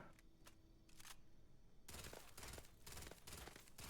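Rapid, too-fast automatic fire from a modded AK-style assault rifle in Starfield, with a few sparse shots first and then a dense continuous burst in the second half. The burst is loud and close.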